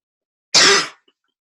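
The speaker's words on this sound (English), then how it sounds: "Apologies for my cough." A single short, sharp cough, loud and close, bursting out of silence and fading quickly.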